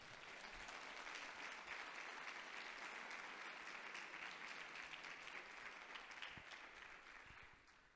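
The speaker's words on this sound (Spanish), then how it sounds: "Denle un fuerte aplauso al Señor" A congregation at a Sunday-morning church meeting gives sustained applause, many hands clapping in a continuous, even wash that sounds distant and soft throughout.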